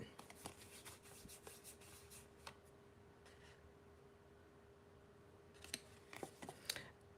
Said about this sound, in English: now let's cut this birthday hat out